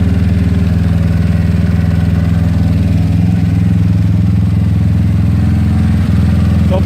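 Close, steady idle from a GY6 scooter engine fitted with an OKO PWK 30mm carburetor and NCY decompression tube, a constant low chugging putter with a faint clatter, alone with no voices.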